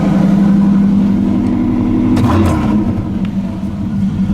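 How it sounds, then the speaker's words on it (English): A truck engine idles steadily with a low, constant rumble throughout, its pitch holding slightly elevated without dropping because the idle is set a little high. "you could hear, I don't know if you could tell, but the idle's a little bit high."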